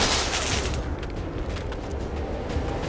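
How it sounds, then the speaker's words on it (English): A grenade exploding in the video game XCOM 2, a loud crackling blast at the start that decays into a rumbling, debris-filled tail. "I'm gonna use Benito's grenade and use it on the front of the truck"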